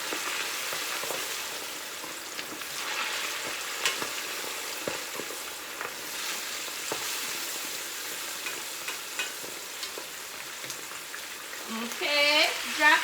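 Food crackles and sizzles steadily in a frying pan, a continuous hiss dotted with small pops, moderately close, while someone talks over it throughout.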